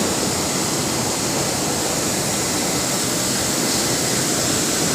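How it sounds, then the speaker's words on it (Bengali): Multi-colour textile printing machine running in a workshop, printing seven colours: a constant, dense broadband whir and hiss that fills the space evenly at steady loudness, with no voices. "এর পাশে আমার মেশিন রানিং আছে"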